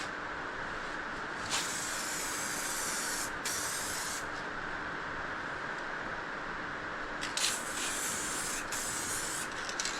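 Steady broadband hiss of a spray can laying an even coat of lacquer on a boat fitting, continuous and close for most of the span with a few brief breaks and restarts.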